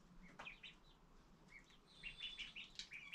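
A baby bird chirps in bright, high tweets, several short calls in quick bursts with brief pauses between them, close and fairly clear over faint background hiss.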